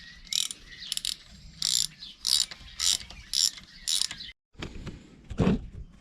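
A ratchet clicks in rapid repeated bursts, close and sharp, while bolts are tightened on the exhaust of a Moto Guzzi Big Block Griso motorcycle; after a brief silence, a heavier metallic clunk and scrape follow.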